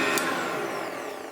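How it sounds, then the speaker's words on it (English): A vintage 1970s Hotpoint upright vacuum cleaner runs on a rug, with a steady, loud motor whine and airflow roar that holds constant and dips slightly toward the end. "work out that the switch is indeed turned on and do some vacuuming"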